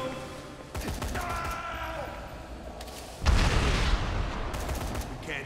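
Gunfire in the video game Dead Rising 3: scattered shots early on, then a loud, dense burst of rapid firing from about the three-second mark, with background game sounds underneath.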